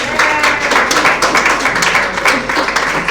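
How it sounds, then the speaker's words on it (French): A church congregation at a Sunday service applauds in loud, close, uneven bursts of clapping, with individual sharp claps standing out through the continuous wash. "On va vous applaudir, on va vous connaître"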